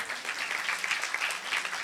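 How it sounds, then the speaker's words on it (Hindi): Short burst of congregation applause inside a church during a sermon, moderately quiet with rapid overlapping claps, heard alone without speech. "तालियां बजाओ"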